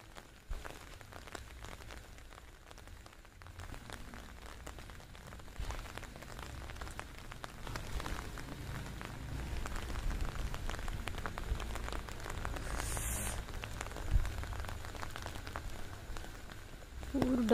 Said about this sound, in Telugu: వర్షం. It's raining.